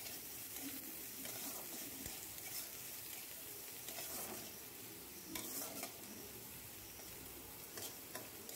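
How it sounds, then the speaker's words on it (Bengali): Chopped onions fry in a pan for a fish curry: a steady low sizzle with occasional scraping stirs and small clinks, close and quiet, with no talk. "পেঁয়াজ কুচিগুলোকে লাল লাল করে একটু ভেজে নেব।"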